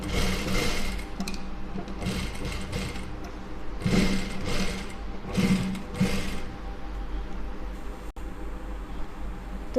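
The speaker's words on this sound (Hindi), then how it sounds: "अब इसे भी हम फोल्ड कर देंगे और सिलाई मार के लेंगे।" A sewing machine stitches a folded neck piece for a fancy neckline, running in several steady bursts with short pauses between, close and moderately loud, with no talking.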